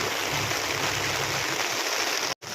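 River water rushes steadily past, a broad continuous flowing roar at close range along the swollen Norzagaray river, with no talk, cut off briefly near the end.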